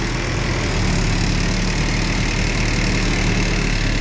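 A new Gunung Harta bus sits idling at a city bus terminal, its diesel engine running with a loud, steady, rough rumble that fills the clip without a break.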